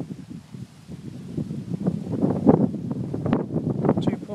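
Outdoor wind blows across the microphone during a wind speed test of a spinning WhirlyBird repeller, making a steady, gusty rumble that swells slightly throughout.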